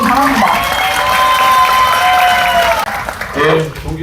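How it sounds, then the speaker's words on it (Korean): Audience applause at a Democratic Party South Chungcheong provincial chapter lecture in Korea, welcoming the chapter chair: a loud, sustained round of clapping from a crowd, with a brief dip near the end before it swells again. "문진석 위원장님을 큰 박수로 맞이해 주시기 바랍니다."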